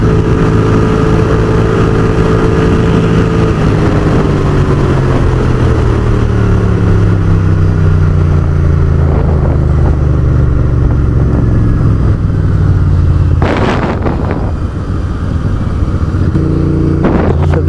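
Motorcycles ridden by a women's riding group cruise at high speed on a highway, with a loud, steady engine drone whose pitch slowly sinks, wind rushing over it and brief louder bursts near the end.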